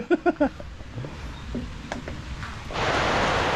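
Heavy rain sweeps in on open ground during crop spraying, arriving suddenly as a loud, steady broadband hiss after a few seconds of quieter outdoor sound and a brief voice at the start.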